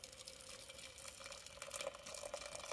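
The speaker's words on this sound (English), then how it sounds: "let us pour the boiling water in very carefully because I don't want to shatter the beaker" Boiling water poured carefully into a glass beaker during a Charles' law lab practical. A soft, steady liquid trickle and splash lasts a few seconds, faint and close, with no talking.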